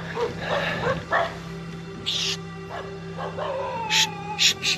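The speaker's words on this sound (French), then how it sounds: "Ils font chier ces chiens." Several dogs bark and yip at a cyclist on a steep road in Sri Lanka, sharp repeated barks coming in bursts over steady background noise, with a voice briefly heard.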